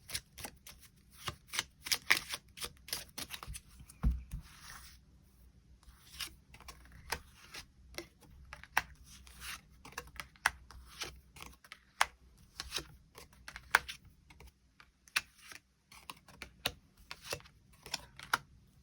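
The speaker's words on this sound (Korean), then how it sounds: "카드 뽑아보도록 하겠습니다" Tarot cards are shuffled and drawn by hand: soft, close papery flicks, riffles and taps scattered irregularly over a long stretch, quiet and without talking.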